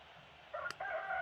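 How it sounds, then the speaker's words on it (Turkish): A rooster crows once, a short, faint call sitting under a quiet background, with a soft click partway through. "Horoz."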